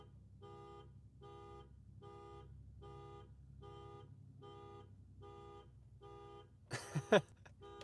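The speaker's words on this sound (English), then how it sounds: "You just get people their alarms going off." A car alarm sounding off in a parking area, beeping in a steady, evenly spaced pulse at moderate distance, then a brief burst of louder, sharper noise near the end.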